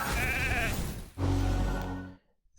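Sheep bleat from the polymorph skill in the video game RAID: Shadow Legends, a loud, wavering bleat followed by a second burst and then quiet.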